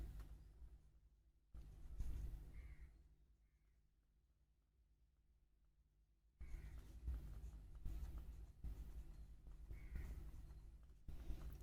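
A pen scratches out a maths formula in short bursts of faint scraping strokes, broken by a quiet pause before the writing picks up again.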